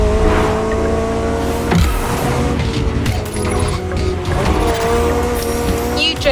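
Mercedes EQ Silver Arrow concept car driving in the racing game The Crew Motorfest, a steady loud engine tone with shifting pitch and brief tire squeals, continuous over a busy backdrop of music and game effects.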